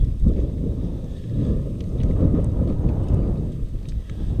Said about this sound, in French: Et le vent qui continue de lever.